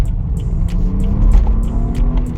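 A 2015 BMW 428i Gran Coupe with a 2.0-litre engine and automatic gearbox climbs a hill into a turn, its engine a steady close low rumble with a faint rising tone and no talk.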